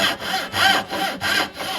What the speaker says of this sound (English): The dovetail saw is a nice rigid saw that's made for straight line cuts